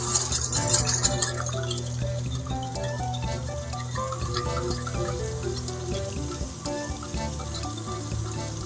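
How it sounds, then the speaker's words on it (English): Egg whites are whisked by hand in a bowl with sugar nearby, giving a steady, close, wet rhythmic clatter. A faint background hum runs underneath and there is no talking. "whisk our egg whites"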